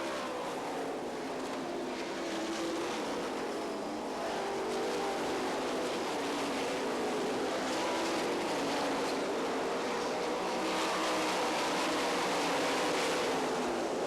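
Sprint cars race on the final lap at the Knoxville Nationals, a continuous loud, dense engine roar from a distant pack that stays steady and slowly swells over the whole stretch.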